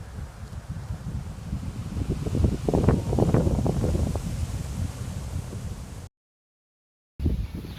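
Strong wind buffets the microphone outdoors in a steady roar with gusty swells, then cuts out briefly before resuming.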